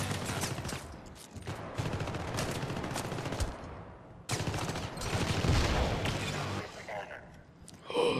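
Dense, sustained automatic gunfire roars through a firefight in the video game Syndicate, with rapid bursts and brief lulls, and a voice speaking over the shooting.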